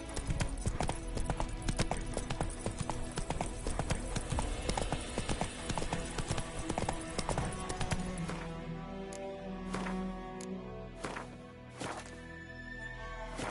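Rhythmic hoofbeats of a galloping horse in a PS4 video game, a fast continuous clip-clop up close that eases and thins toward the end, with a few thwacks.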